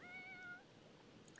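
A pet cat in The Sims 4 giving a single short, faint meow at the start, followed by quiet background.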